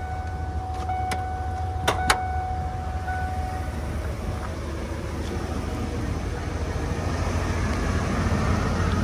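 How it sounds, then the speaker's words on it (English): A 1995 Ford Econoline 250 4x4 camper van with about 52,000 original miles, engine running, a steady close hum with a few brief sharp tones near the start. "let's go take a look at the motor itself while it's running."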